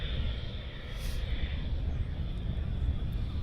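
A military jet taxiing at RAF Lakenheath, heard as a distant low engine rumble with a faint high whine, steady and moderately quiet with some wind noise.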